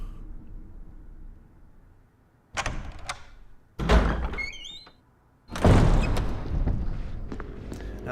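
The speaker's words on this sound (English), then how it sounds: "Now that noise you're hearing is a zombie that's trying to run at me" A zombie rushing at the player in the Resident Evil HD video game: a quiet ambient hum broken by several loud thudding impacts and heavy scuffling noises, with a brief high shriek in the middle, close and growing louder near the end.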